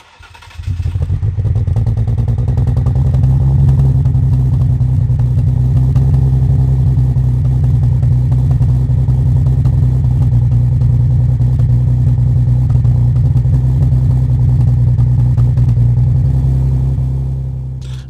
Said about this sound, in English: Let's start this video by doing ourselves a nice little cold start.